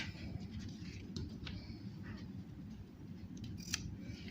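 Scissors snipping through elastic for a fitted bed sheet, a few faint, brief cuts heard close up over steady low background rumble, with no talking.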